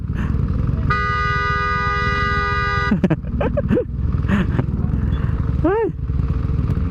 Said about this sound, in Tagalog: Ang content natin napunta dito sa traffic.